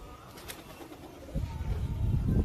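Pigeons that have just landed after a pre-tournament flight coo softly in a low, rumbling murmur that grows fuller in the second half, heard at moderate distance.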